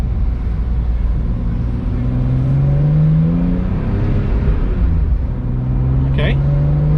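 A BMW E46 M3 with SMG gearbox pulls through a roundabout in first gear, its engine drone rising in pitch under acceleration from inside the cabin, with a voice heard faintly over it.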